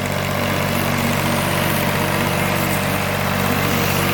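A tractor bush hogs a field with a rotary mower, a steady loud engine drone with a low rumbling hum that holds unbroken throughout, no voices.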